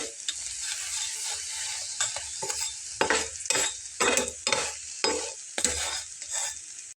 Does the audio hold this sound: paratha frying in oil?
yes